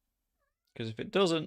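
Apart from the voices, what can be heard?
cat meowing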